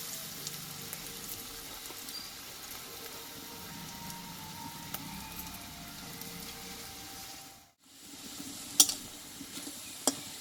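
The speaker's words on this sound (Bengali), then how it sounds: "এবার বাকিগুলো এই তেলেই ভেজে নেব।" Jackfruit seed pakoras frying in hot oil give a steady, soft, close sizzle throughout, with a brief drop to quiet near the end followed by a few sharp clicks.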